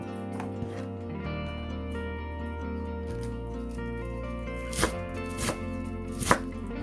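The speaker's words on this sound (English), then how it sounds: "then you cut into slightly small shredded pieces" A knife shreds Chinese cabbage on a board, with a few distinct chopping thuds near the end over a soft background hum.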